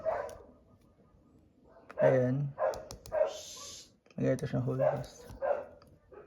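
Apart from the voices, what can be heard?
dog barking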